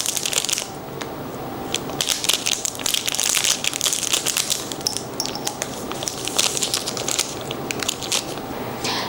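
A glass nail scraper for nail care is popped out of its packaging, giving close, busy crinkling and crackling plastic sounds in quick irregular bursts throughout.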